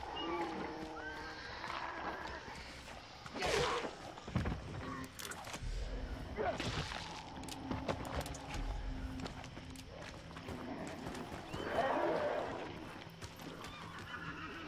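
In the video game Hunt: Showdown, a horse neighs and whinnies several times at moderate distance, with scattered hoof thumps and other game noises between the calls and a person talking at points.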